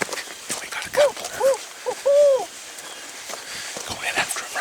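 A turkey hunter in Illinois blows a few quick owl locator calls, a hooting voice imitation heard as three or four short wavering hoots outdoors, followed by quieter rustling.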